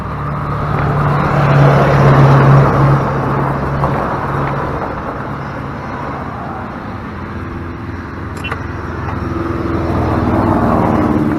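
An RXV golf cart drives nearby with a loud, continuous motor whine and road noise that swells and eases slightly as it slows. No one speaks.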